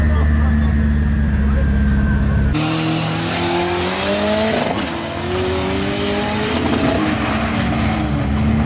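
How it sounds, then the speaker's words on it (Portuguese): Loud turbocharged engine of a 1954 split-window VW Beetle revving hard, pitch climbing and dropping through repeated pulls, close and dominant with a voice heard faintly in the background. "Esse é o motor do Marquinho"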